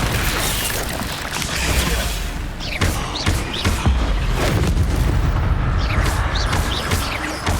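Incendio fire spell cast in a Hogwarts video game, a loud burst of whooshing flame and booming thuds within dense, continuous combat noise, with a few sharp impacts scattered across the clip.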